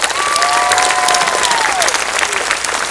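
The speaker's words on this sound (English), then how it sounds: "Let's give them another round of applause." A crowd at a high school commencement claps steadily for a few seconds, with whistles cutting through the dense, even applause.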